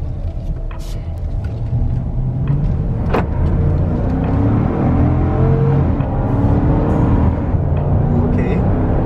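2020 Jeep Cherokee Trailhawk accelerating on a test drive, a steady engine rumble and road noise heard from inside the cabin, with a faint voice in the background.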